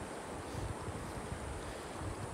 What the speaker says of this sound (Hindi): ये दरिया बह रहा है।